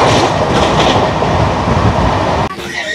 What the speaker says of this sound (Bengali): আর এসে পৌঁছালো ট্রেন